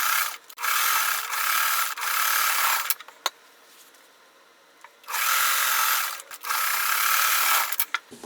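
A sewing machine stitches a 1.5-inch quilt strip onto a block in quick whirring bursts, four runs in all with a short pause in the middle, close and clear.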